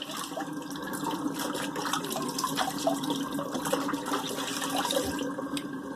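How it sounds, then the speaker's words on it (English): Water drains out of a bathroom sink in a steady gurgling rush with light trickles, fairly quiet and close, with no talking. "Let me let the water out of the sink, rinse this off."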